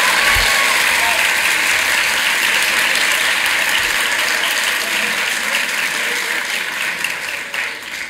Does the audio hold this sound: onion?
no